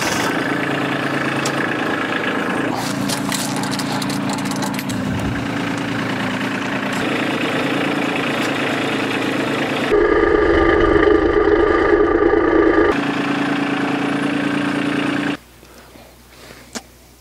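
A vertical log splitter's engine runs steadily at a constant mid-range idle for about fifteen seconds, loud and near, with shifting mechanical overtones before it cuts out abruptly into near silence.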